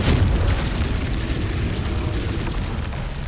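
A Confringo fire spell explodes in Hogwarts Legacy, a loud, dense blast of booming rumble that holds steady for about three seconds with no gaps and fades slightly at the end.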